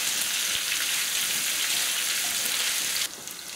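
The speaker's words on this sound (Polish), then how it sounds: "Boczek mam już przyrumieniony, cudownie pachnie, a zatem pora na kiełbasę i będę dalej podsmażała." Sausage and bacon fry in a pan for Polish-style baked beans with a loud, close, continuous crackling sizzle that drops slightly in level near the end.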